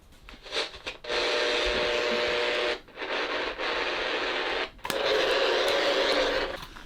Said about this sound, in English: You just hear white noise, effectively.